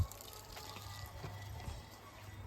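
Water poured onto green vegetable plants in a home garden makes a soft, steady splashing trickle, faint and continuous, with a low rumble underneath.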